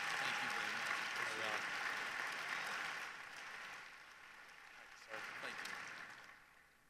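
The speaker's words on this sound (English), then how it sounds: "Let's give a big round of applause to Secretary Mike Naig." An audience at the Iowa FFA State Leadership Conference general session claps loudly for Secretary Mike Naig; the applause thins out, then swells again briefly, with a voice speaking through it.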